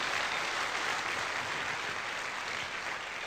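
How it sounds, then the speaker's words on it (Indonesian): Seminar audience in Cirebon applauding, a steady, dense burst of many hands clapping together, fairly close and sustained throughout without voices. "mohon aplaus untuk Anda semua Bapak Ibu"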